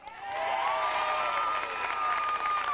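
Concert audience applause in Los Angeles, a steady wash of clapping and cheering from a large crowd that holds loud and even for nearly three seconds, with a few brighter whoops riding on top.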